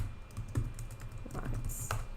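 Fast, light keystrokes on a computer keyboard as a search is typed, a soft close run of clicks over a low background hum.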